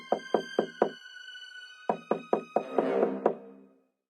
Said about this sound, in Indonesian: Serigala mengetuk pintu.